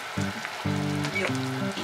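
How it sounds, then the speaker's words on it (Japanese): Water boiling in a pot on the stove for cooking corn, a close, steady bubbling hiss with short pulsing bursts throughout. "あれからお湯が沸騰しました"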